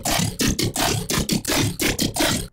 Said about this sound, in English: It's made in Serum. It's called Tentacles because I thought it sounded like it was saying tentacles